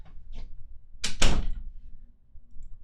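A household door is handled, a faint click, then a sharp loud slam or latch thud at mid-clip followed by quiet room tone.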